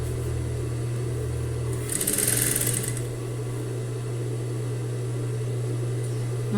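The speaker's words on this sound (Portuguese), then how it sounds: "eu passo essa costura, dou um retrocesso no início e sigo aqui" A sewing machine runs a short burst of stitching, backstitching at the start of a seam through fabric lined with TNT nonwoven for a homemade zippered pouch, heard for about a second over a steady low hum.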